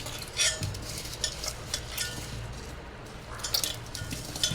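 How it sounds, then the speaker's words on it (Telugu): Tomatoes and tamarind are squished by hand in a bowl for rasam, producing soft, wet squelching and sloshing sounds that come in irregular bursts. "ఇవైతే చేత్తో మెదిపేసుకుందాం"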